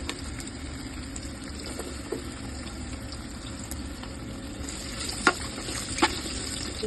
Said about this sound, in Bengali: হালকা এটাকে ভেজে দেবেন রসুনটা হালকা ভাজা করে